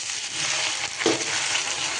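Dhokla tadka tempering crackling in a pan as water is added, a dense continuous sizzle with a brief burst near the middle, no voices.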